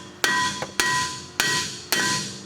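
Four sharp, ringing metallic hammer strikes on a Ford F-series brake rotor surface, evenly spaced about half a second apart, each leaving a short metallic ring, with no talk.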